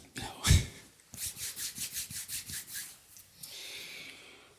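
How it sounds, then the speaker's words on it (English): Hands rubbing together near the microphone in a run of about eight quick, even swishing strokes, preceded by a brief thump and followed by a soft hiss. "I'll just rub my hands like I'm going to do something"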